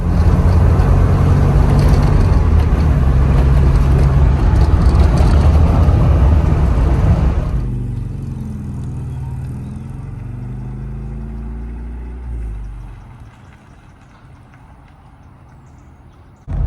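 A 1994 Rover Mini Sprite being driven, its engine a loud, steady close-up drone that drops away into a quieter, lower hum as it eases off, with no talk.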